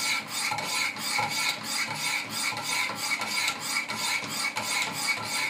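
Rapid alternating strokes of a Wicked Edge sharpener's 200-grit stones on a Benchmade 940 knife blade, a steady, close, rhythmic rasping scrape repeated about twice per second.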